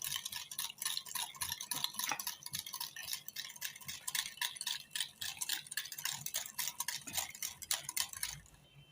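Yogurt cake batter being stirred steadily in a bowl, a utensil clinking and scraping in a quick, continuous rhythm, close and fairly quiet with no voices.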